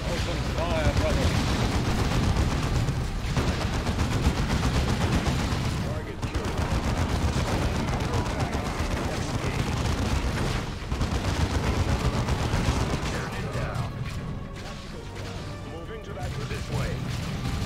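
Rapid gunfire in a Warhammer 40,000 video game, dense bursts of shots and mechanical clatter rattling on almost without pause, with voices talking over the din.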